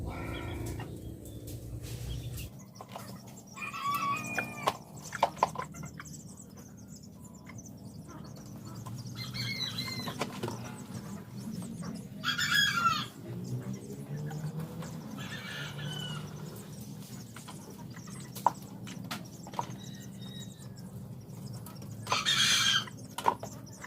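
Chickens at a feeder give faint, scattered clucks and squawks with occasional soft flapping, set against quiet outdoor background noise.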